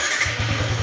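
A Yamaha Sniper 155 motorcycle engine runs close by, giving a steady low throbbing hum with an even pulsing beat throughout.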